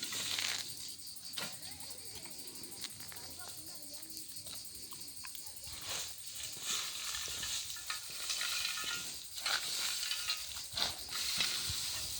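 Freshly harvested hazelnuts being stirred, a rustling, rattling clatter that swells and fades in bursts, close by, with someone speaking over parts of it.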